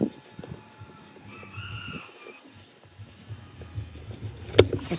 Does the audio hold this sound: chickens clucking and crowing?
yes